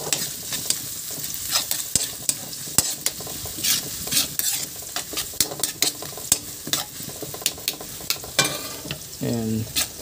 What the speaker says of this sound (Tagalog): Susunod naman natin yung onion. So, yung gigisa nyo lang yan,